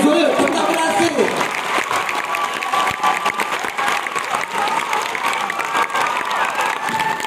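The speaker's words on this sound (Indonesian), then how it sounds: "beri lah tepukan semangat tu Jeff" Audience applause and cheering at a reunion show in a Shah Alam theater, a steady crowd of clapping with shouts and voices mixed in throughout, moderately loud and continuous.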